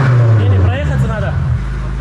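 A BMW M5 F90 drives past with a deep engine and exhaust drone, loud and close, its low rumble steady before fading slightly toward the end.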